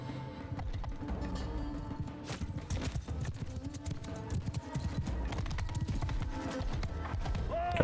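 Cavalry horses in the video game Mount & Blade II: Bannerlord, a dense rolling clatter of many hooves moving together, steady and fairly loud throughout with battle noise mixed in.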